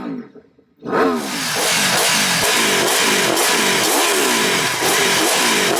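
A motorcycle fitted with an aftermarket exhaust revs hard and close after a brief lull, repeated throttle blips rising and falling in a loud, continuous run with no talking.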